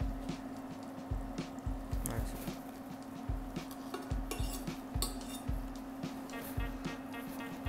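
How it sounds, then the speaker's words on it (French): Caramel is stirred and scraped in a saucepan with a flat knife, giving soft irregular clinks and scrapes against the pan bottom over a steady low hum, quiet and close, with no talking. "il faut bien remuer pour pas que le caramel colle au fond de la casserole"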